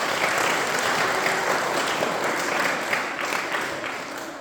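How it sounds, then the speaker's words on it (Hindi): Students and guests applaud at a Class 8 farewell ceremony at Deepak School in Teliyamar, Korba. The loud, full clapping of a large crowd runs for several seconds, then gradually tapers off. "तो जोरदार तालियां बजा दीजिए।"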